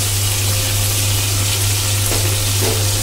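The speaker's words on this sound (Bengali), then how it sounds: "এটা কিছুক্ষণ ভেজে নেওয়ার পর আমরা এখানে জিরে, আদা আর কাঁচা লঙ্কা যেটা বেটে রেখেছিলাম সেটা দিয়ে দেবো এর মধ্যে" Steady loud sizzling of a hot pan as a ground paste of cumin, ginger and green chili goes into the oil for a Bengali fish curry, a continuous close crackling hiss with no talk.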